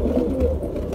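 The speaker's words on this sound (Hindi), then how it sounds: "और इस कबूतर का बताना है कमेंट में, अलग ही लगता है गुटकता हुआ" A pigeon coos in a low, continuous throaty warble, close and fairly loud, with no other sounds.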